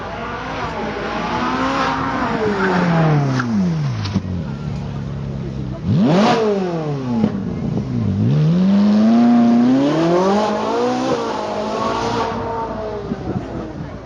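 A 4.5 litre V8 supercar Spider revs hard and accelerates, its engine note climbing through gears with sharp drops between shifts, loud and close, then rising again as it pulls away.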